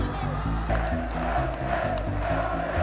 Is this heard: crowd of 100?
yes